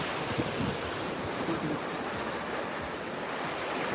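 Ocean surf washes onto a beach of pure quartz-crystal sand as a steady, close rush of breaking waves with wind buffeting the microphone and no talking.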